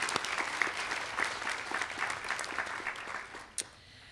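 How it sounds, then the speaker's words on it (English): Audience at an adult education graduation ceremony giving the graduates another round of applause, a full steady clatter of many hands that tapers off, with a final sharp clap before it fades. "One more round of applause."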